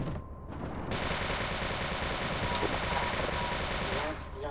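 Rapid automatic gunfire from the Half-Life Sven Co-op multiplayer game, a dense continuous burst of loud shots lasting several seconds after a brief quiet start.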